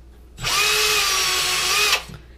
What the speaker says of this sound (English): It's easy with a power drill.